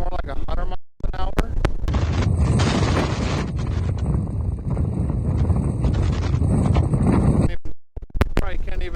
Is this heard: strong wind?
yes